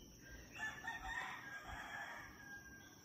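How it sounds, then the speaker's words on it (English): Roosters crowing at a distance around sunset at a ranch, one long drawn-out crow standing faintly above a quiet outdoor background. "We just talked about the roosters."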